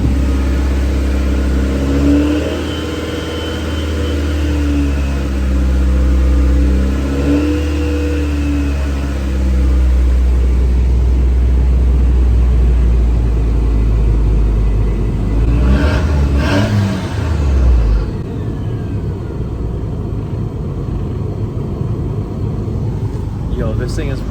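A manual-swapped Mk4 car engine runs close by, revving up and down twice before settling into a steady idle rumble.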